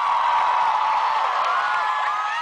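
A concert crowd cheering and whooping for a singer and her goddaughter, a dense, loud, continuous wash of shouting voices.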